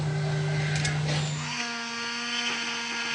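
Small drill boring a hole into an ink cartridge: a brief, close, high-pitched whine that shifts pitch as the bit cuts through the plastic, loud and steady over about three seconds.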